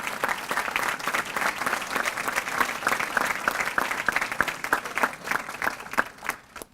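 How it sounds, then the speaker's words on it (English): Warm, steady applause from a banquet crowd at a chamber of commerce awards dinner, dense clapping sustained for several seconds before thinning out at the end. "So give them all a round of applause"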